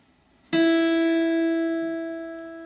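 A single plucked first string on an acoustic guitar rings out clearly and alone, sustaining and slowly fading as it is brought down toward D.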